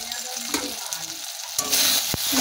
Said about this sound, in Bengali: দিয়ে ভালো করে মশলাটাকে আরও ভেজে নেব।